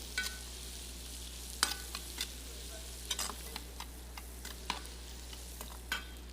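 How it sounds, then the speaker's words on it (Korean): Zucchini stir-frying in a pan, a soft continuous sizzle broken by sharp scraping and tossing strokes at irregular intervals, close-up with a low steady hum underneath and no talking. "먼저 호박을 먼저 넣어서 볶아주시고"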